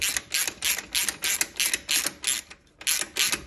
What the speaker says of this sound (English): now we got to take a half inch socket and tighten up these adjusters